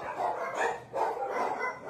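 A young puppy at an animal shelter gives three short, soft yips close by, evenly spaced, with no voices around them.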